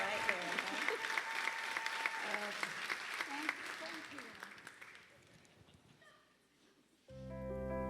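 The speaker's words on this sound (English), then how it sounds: "Ladies and gentlemen, give her a round of applause." A Miss Virginia Volunteer 2025 pageant finals night audience applauds loudly with dense clapping that gradually fades out, followed by a short pause and then music starting up.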